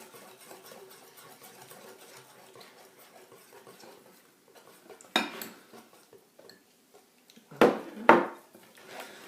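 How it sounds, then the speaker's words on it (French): Butter, sugar, egg and cornstarch dough stirred in a bowl, heard as quiet continuous scraping that ends with a few sharper knocks and clinks near the close. "Toujours en remuant."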